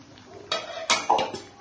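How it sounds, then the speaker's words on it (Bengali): A metal lid goes onto a cooking pan of bitter gourd curry with mustard and poppy seed, giving three quick, close metallic clanks and knocks in a quiet kitchen. "এইভাবে ঢাকনা দিয়ে রাখছি।"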